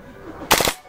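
A BB gun replica of a Free Fire game weapon fires a short rapid burst of three or four close, sharp pops just after some quiet talk.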